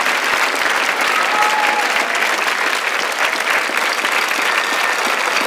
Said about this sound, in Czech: Váš potlesk míří Karlu Růžičkovi.